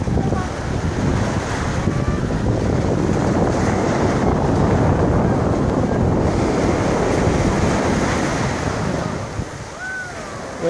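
Ocean waves at a beach in Zambales, a loud continuous surf roar mixed with heavy wind buffeting the microphone, with a brief voice or cry near the end.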